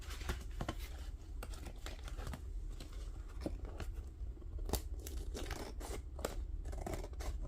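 Scissors cutting paper while making a journal base, a steady run of close, crisp snipping and rustling strokes with irregular rhythm and no talk.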